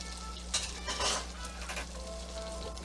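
Butter and oil sauté in a frying pan while eggs Florentine are cooked, giving a soft, steady sizzle with a few brief louder bursts as the pan contents are stirred, fairly quiet over a low background hum.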